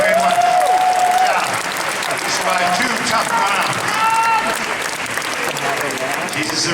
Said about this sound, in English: A big round of applause for Ash.